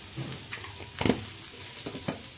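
Black peppercorns and cumin seeds fry in a pan under a low sizzle, with a few soft scrapes of stirring and one louder clatter in the middle.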